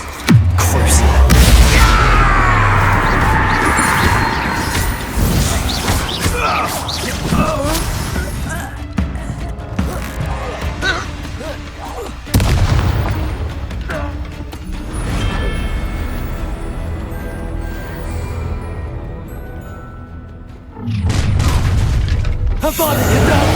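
Booming spell blasts from Confringo casting in the Hogwarts Legacy video game, loud and repeated amid game music and combat, with voices talking over the action.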